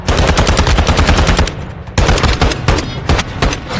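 Rapid, loud automatic gunfire from a video game weapon emptying its magazine, bursts rattling almost continuously with a brief lull before resuming.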